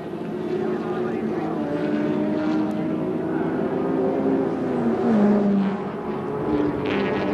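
Group C touring car, Peter Brock's, storming down the end of the straight at around 145 to 150 mph at the 1981 Adelaide race, a steady loud engine roar with a passing pitch shift, under continuous commentary.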